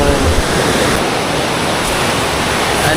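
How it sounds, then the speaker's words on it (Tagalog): Strong sea waves: a loud, steady roar of crashing surf filling the whole stretch, close and unbroken, with no voices over it. "Lakas ng alon yan."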